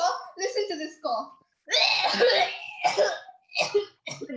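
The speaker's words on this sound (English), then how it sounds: "Did you hear me cough? Listen to this cough." A teenage actor in a stage drama coughs theatrically in short bursts, with pauses and spoken lines mixed in.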